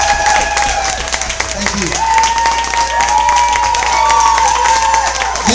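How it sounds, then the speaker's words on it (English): Audience applause and cheering at a marathon assembly line concert, a steady loud wash of clapping with whoops, while someone briefly speaks over it. "Give him a round of applause."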